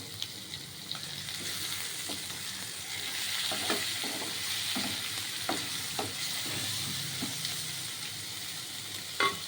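Garlic, ginger and green chili paste, with capsicum, frying in a pan for a paneer and potato curry, a steady close sizzle with scattered clicks of a spoon stirring throughout.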